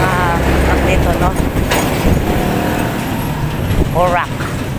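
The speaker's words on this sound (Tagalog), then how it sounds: "May mga truck dito" Trucks and other road traffic roll past a cyclist on a Pampanga road toward Porac, a steady loud roadway roar, with a passing vehicle's sweeping whine near the end and people talking over it.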